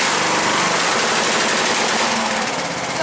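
Poulan lawn mower engine running steadily and loud at close range while its carburetor air-fuel mixture screw is adjusted, a dense continuous buzzing roar with no voices.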